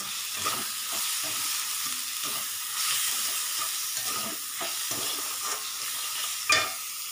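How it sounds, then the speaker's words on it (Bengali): Spiced masala with salt, turmeric, chilli, cumin powder and a little sugar fries in a pan, a steady loud sizzle broken by repeated scraping stirs, with no talking. "তো এটা ভালো করে কষবো এবার।"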